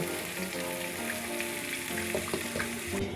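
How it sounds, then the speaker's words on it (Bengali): Loud, continuous sizzling of hand-shaped dough bowls frying in hot white oil in a wok, with bubbling crackles and a few light scrapes of a utensil, no one speaking. "তেল গরম হয়ে গেছে, এবার আমি বাটিটা ভেজে নিচ্ছি আগে।"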